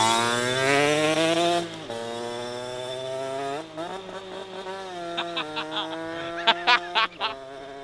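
A 50cc Derbi moped races a 50cc scooter, their small two-stroke engines screaming at high revs, then dropping and rising through uneven buzzing bursts at close range, with a few sharp blips toward the end.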